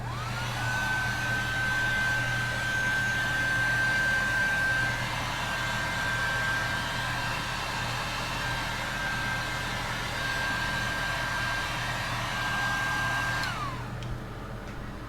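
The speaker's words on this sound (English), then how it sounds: "I've just got a cheap old heat gun that I got from Harbor Freight." A cheap Harbor Freight heat gun blowing steadily to heat-set paint on a Citrus Plum Shad crankbait, a loud close whooshing roar with a steady high whine that runs for about thirteen seconds before dropping as it switches off.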